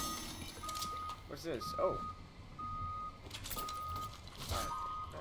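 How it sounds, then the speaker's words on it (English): Repeated electronic beeping in the video game Fortnite, evenly spaced tones sounding non-stop, with a short exclamation spoken over them. "Oh my god, it's non-stop beeping, bro."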